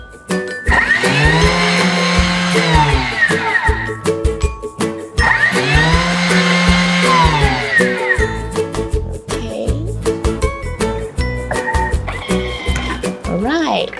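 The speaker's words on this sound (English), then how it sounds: "you just find the turbo mode and switch it to 2 seconds, 2 times" A Thermomix on turbo mode grinds sugar into icing sugar: two loud, close whirring blender bursts of about three seconds each, separated by a short pause, followed by lighter clattering.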